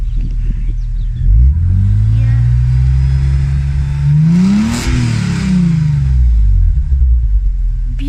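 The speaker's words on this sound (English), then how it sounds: "Let's listen to the Super Sprint exhaust." 1996 BMW E36 M3 Evolution convertible with a 3.2 engine and Super Sprint exhaust, close and loud, burbling at idle and rising into a rev before settling back; someone briefly speaks.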